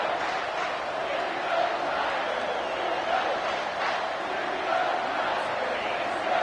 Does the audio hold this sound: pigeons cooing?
no